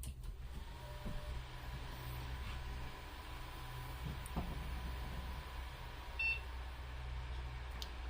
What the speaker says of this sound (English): It's nice to hear a post sound.